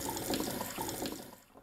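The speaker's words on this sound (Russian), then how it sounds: "наберем холодную воду и оставим их" Cold water runs from a kitchen tap into a bowl for soaking wakame seaweed, a soft steady splashing stream that fades out at the end.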